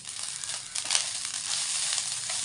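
Cooked rice stirred into freshly grated coconut frying in ghee in a pan, with a steady close sizzle and soft crunching scrapes as it is mixed, and no talking.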